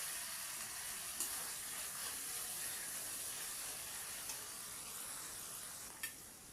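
Tomato frying with spices in a pan gives a soft, steady sizzle and hiss, faint and unbroken, with a few light clicks of stirring and no talk.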